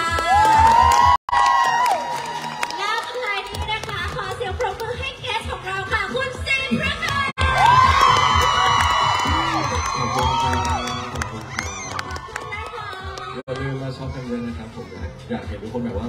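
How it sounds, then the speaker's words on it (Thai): Crowd at a Central Westgate event cheering, whooping and applauding loudly under amplified voices and music, with bursts of shouting through most of the stretch. "ขอเสียงปรบมือให้กับเจ้าบ้านด้วยนะคะกับ Central Westgate ค่ะ"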